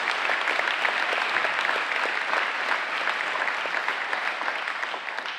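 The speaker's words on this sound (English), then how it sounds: "One more round of our applause for Hearten House, please." Audience applause at a community foundation meeting, a sustained round of clapping from a seated crowd, even and continuous throughout.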